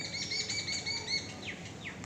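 Faint, high chirps and short tweets from small birds, one of them a blue bird, come in quick repeated notes over a soft background hum, with a couple of sliding calls near the end.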